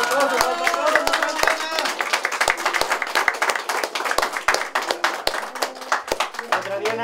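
An audience at an arrieros gathering at Hacienda Tierra Blanca gives a steady round of applause, with dense, uneven hand claps throughout and people talking over it.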